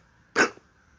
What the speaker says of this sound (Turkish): Öksürdüm mü ben?